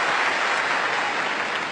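Tennis crowd at the 1998 Australian Open quarterfinal applauding a great shot, steady dense clapping spread across the stands for the whole moment, fairly loud with no talk over it.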